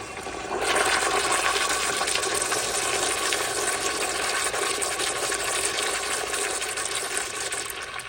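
Kohler Dexter urinal flushing on garden hose water pressure, a sudden loud rushing flush that starts sharply and holds steady for several seconds, close and alone.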